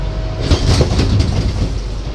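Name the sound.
Silkcity Express train leaving Mirzapur railway station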